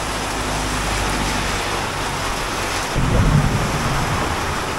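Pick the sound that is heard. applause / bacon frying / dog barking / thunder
thunder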